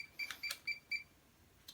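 A Fluke 289 digital multimeter gives a series of short, sharp electronic warning beeps, four evenly spaced chirps followed by a fainter one after a pause, close and clear with no voices.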